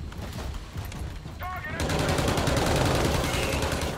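Submachine gun fire in Call of Duty: Infinite Warfare, a fast, continuous rattling burst that grows louder and denser halfway through, sitting close and loud with a voice talking over the start.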